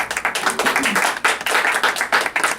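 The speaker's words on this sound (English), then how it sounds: "Let's get a round of applause." Applause from a studio audience greeting a guest on a radio talk show, steady dense clapping that holds for a few seconds at moderate loudness with no voices over it.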